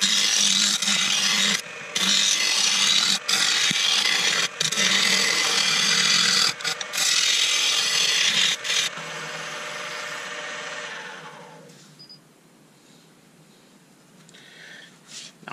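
A spindle roughing gouge cuts a spinning wood blank on a lathe while shaping a small Christmas tree, giving a loud continuous rasping, scraping roar with brief breaks, then fading to quiet motor hum near the end.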